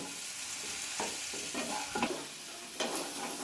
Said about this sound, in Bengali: এভাবে জল দিয়ে ভালোভাবে মিশিয়ে দিতে হবে।